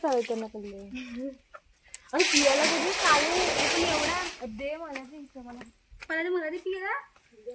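A loud burst of splashing water from a well as water is drawn lasts about two seconds, with people talking before and after it.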